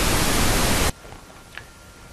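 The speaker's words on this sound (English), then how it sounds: "I'll put up a sample of pink noise here." A loud, dense burst of pink noise test signal, a broadband hiss that fills the sound for under a second and then stops abruptly, leaving near silence.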